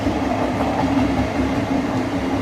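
A steady train rumble with a faint rhythmic rattle of wheels on track, heard at night from inside a moving AC commuter train carriage, continuous and fairly loud.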